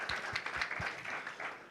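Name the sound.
congregation clapping loudly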